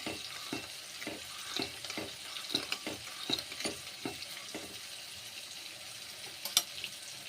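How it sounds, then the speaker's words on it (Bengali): Bottle gourd vegetables fry in a pan with a soft, low-level sizzle while a spatula stirs them in a regular rhythm of short scraping strokes, ending with one sharper clatter. "ভেজে নিচ্ছি এইভাবে"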